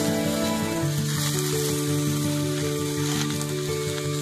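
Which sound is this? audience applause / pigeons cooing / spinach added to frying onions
spinach added to frying onions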